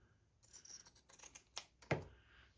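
Scissors snip through paper stamped as craft tickets, a close, faint run of quick crisp cuts followed by a sharper final snip, with no talking.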